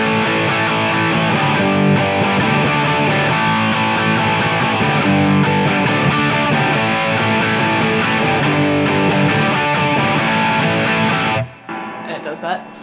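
Distorted electric guitar slowly playing the pre-chorus riff of a song with power chords, a steady dense ringing tone lasting about eleven seconds before cutting off into near silence.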